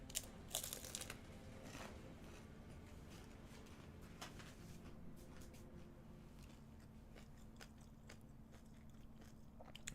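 Crunchy keto snack bitten and chewed close to the mic, giving repeated crisp crunches and a crinkle of packaging near the start, with softer chewing between bites over a low room hum.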